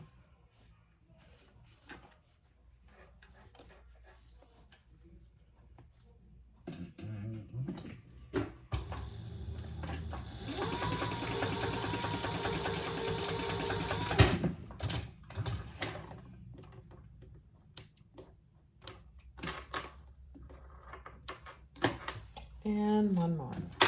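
Sewing machine stitching two rows on a crossbody sling bag with a silver clasp, a steady mechanical whir through the middle stretch, with handling clicks and taps before and after.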